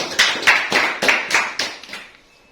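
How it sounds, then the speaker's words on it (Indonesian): Sparse audience clapping at a business networking talk: about seven loud, separate claps in an uneven rhythm that grow fainter toward the end, with no talk over them. "tepuk tangan buat kita semuanya"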